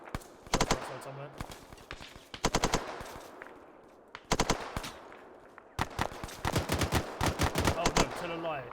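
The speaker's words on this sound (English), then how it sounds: "Shots outside somewhere." Bursts of automatic gunfire rattle in several rapid clusters during an airborne division convoy training exercise, fairly close and sharp, with pauses between volleys and a voice speaking briefly.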